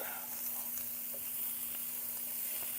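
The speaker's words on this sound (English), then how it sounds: "All right, I saute everything up." Vegetables sauté in a pan for homemade meatball soup, giving a steady, even sizzle with a faint hiss throughout and no voices.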